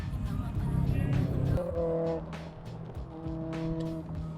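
Race cars come around a track with engines droning and shifting pitch as they pass and pull away, heard from trackside at moderate distance, with faint voices nearby.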